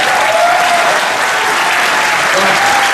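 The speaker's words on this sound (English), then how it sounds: "can we just have a big round of applause for our new coach?" A big audience on the Carnival Mardi Gras cruise ship, at its opening ceremony, applauds the new coach with steady, dense clapping that fills the whole stretch. A voice rises briefly over the clapping.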